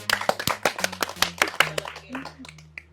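Crowd clapping at a rally in a Haryanvi film scene, a sequence of sharp, close hand claps in an uneven rhythm that thins out and fades near the end over a low steady hum.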